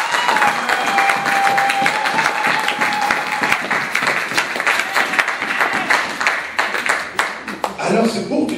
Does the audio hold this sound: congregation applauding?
yes